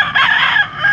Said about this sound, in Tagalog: Gilmore Hats ang lahi ng mga manok ni boss